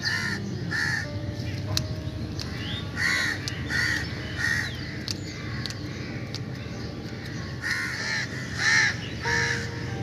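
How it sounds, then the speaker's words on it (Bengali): Many crows caw repeatedly from all around and overhead, harsh calls coming in uneven bursts at moderate distance over faint outdoor background. "কাকগুলো কেমন কা কা করে যাচ্ছে চারিদিকে"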